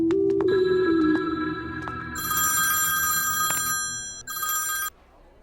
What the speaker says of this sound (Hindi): वैष्णव को फोन लगा, उसी से पता कर बात क्या है।